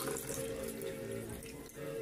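Water pours in a steady trickle, with a continuous splashing stream from start to finish and no one talking over it.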